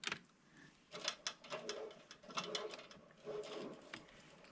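A Passap E6000 knitting machine carriage being pushed across a row, giving close, quiet mechanical clicks and ratcheting rattles in uneven bursts with short gaps between.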